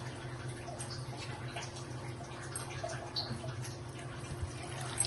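Water is poured into a pot of cucumber curry, a soft, low trickle and splash heard close but faint and steady, with small drips throughout.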